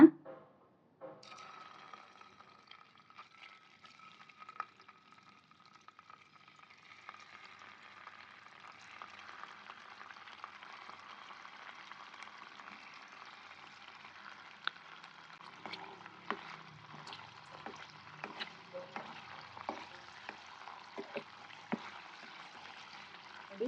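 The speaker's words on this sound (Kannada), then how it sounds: "ಈಗ ಇದು ಪನ್ನೀರ್ ಫಸ್ಟ್ ಒಂಚೂರು ಫ್ರೈ ಮಾಡ್ಕೊಳ್ಳೋಣ." Paneer cubes fry in a little hot oil in a pan, giving a faint, steady sizzle with scattered crackles and occasional utensil clicks, quiet and continuous with no voices.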